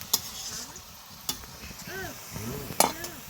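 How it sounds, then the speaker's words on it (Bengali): Gentle sizzling and stirring of cabbage curry with fish head in a pan over a clay stove, with a few scraping clinks and a faint voice murmuring in the background. "কত সুন্দর বাঁধাকপির তরকারিটা রান্না হচ্ছে পোনা মাছের মাথা দিয়ে"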